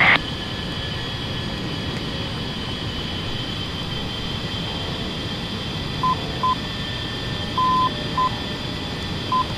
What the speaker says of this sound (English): there's the inner marker right there